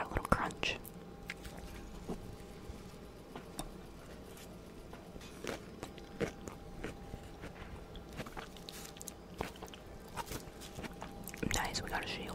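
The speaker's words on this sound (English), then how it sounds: "We are gonna start off with the salad because I put Italian dressing on it a little too early and now my salad's a little soggy" Close-up chewing of soggy salad dressed with Italian dressing, soft wet crunches and mouth sounds repeating in an irregular rhythm at low level, alongside faint whispered talk and game noise.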